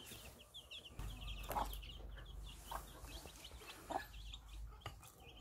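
Hens clucking softly in a quiet coop, including a broody hen sitting on eggs, a few murmured clucks with faint chirps from small birds in the background.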